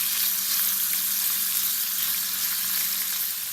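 Sausage browns in a pan while cooking for bringhe, giving a steady, loud, close sizzle and crackle that runs unbroken throughout with no talking.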